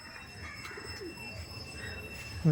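Kalshira flying pigeons coo softly and continuously, low murmuring calls over a steady background hum, ending with a louder burst up close.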